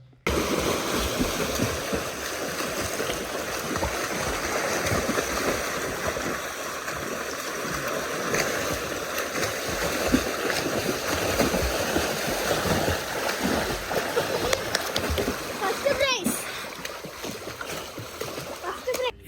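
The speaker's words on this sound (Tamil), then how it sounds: "இப்போது நீச்சல் போட்டி முடிவடைந்து விட்டது." Swimmers racing in a deep well churn the water, a continuous loud wash of splashing and sloshing that stays steady throughout, with echoing voices faintly mixed in.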